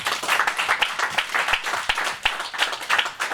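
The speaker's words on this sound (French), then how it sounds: "Acclame le Seigneur pour toi-même." A church congregation applauding, steady rhythmic clapping from many hands at moderate distance, sustained throughout with faint voices mixed in.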